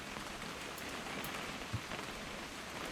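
Steady rain pours down in a video game, a dense, even hiss with scattered drops tapping throughout and no voices.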